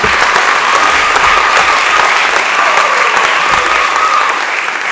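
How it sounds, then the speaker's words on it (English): Sustained, loud applause from a crowd at a high school athletic awards banquet, steady and full throughout without letting up. "Give a round of applause one last time"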